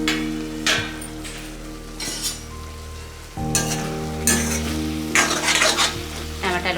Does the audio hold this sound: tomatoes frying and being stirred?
yes